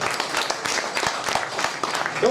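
Comedy club audience applauding at a stand-up show, a dense, steady wash of many hands clapping throughout, with some voices faintly mixed in.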